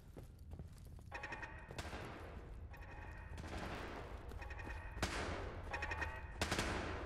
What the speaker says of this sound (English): Who's that shooting at?